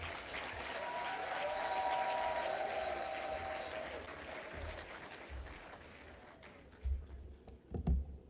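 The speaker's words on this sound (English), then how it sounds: "could I ask you to give a thunderous round of applause" Sustained applause from a large audience at a Jamaican diaspora forum, a dense wash of clapping that gradually fades out, followed by a few low thumps at the end.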